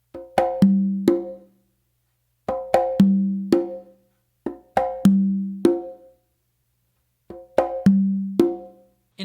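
A Latin tumbao pattern played by hand on conga and tumba, with clusters of three or four crisp strikes and ringing open tones repeating in a steady cycle, close and alone without talk.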